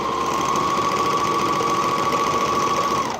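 A malfunctioning serger sewing machine that fails to lock and serge the fabric runs at a steady high whirring drone with a fixed tone, close and loud, then winds down abruptly near the end.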